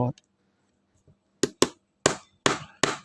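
Sharp cracking and knocking as a sealed plastic case of a Sony 19.5 V power adapter, with no screws, is pried and split open: several loud, close impacts in an irregular cluster, with quiet gaps between them.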